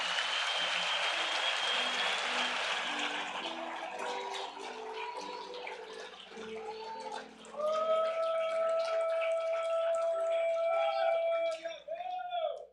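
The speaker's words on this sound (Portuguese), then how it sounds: "dê uma salva de palmas ao Senhor" Church congregation applauding at an evangelical congress service, a dense wash of clapping that thins out, followed by sustained worship music tones swelling alongside it.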